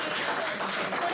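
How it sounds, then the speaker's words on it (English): An audience at a meeting claps in a steady, fairly faint wash of applause, with no single claps standing out. "Let's clap for that one."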